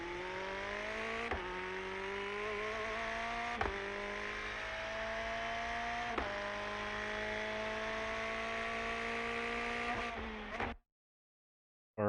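A Ferrari 488 GT3 engine in iRacing at Tsukuba Circuit climbs through the revs in long pulls, with three sharp upshifts breaking the rising tone, before cutting to sudden silence at the end.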